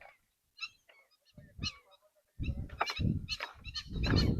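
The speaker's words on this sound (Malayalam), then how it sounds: "ശരിക്കും കിളികളുണ്ട്." Goose-like honking birds call near a dam, several loud nearby honks in quick bursts, growing more frequent toward the end.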